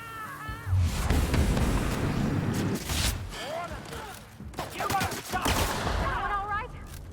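Rapid video-game gunfire from The Outer Worlds, bursts of shots and impacts spread across the scene with a player's voice chattering and exclaiming over and between them.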